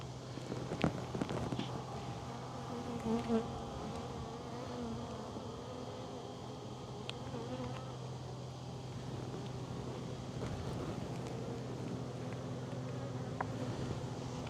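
Honey bees work on the frames of an open hive, giving a faint, steady, close buzzing hum. Occasional louder individual bees pass in the opening seconds, and no voices are heard.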